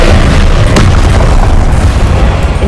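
A Confringo spell sets off a loud, booming blast in a Harry Potter video game. The deep rumbling explosion fills the clip at full volume with a sharp crack early on and no voice over it.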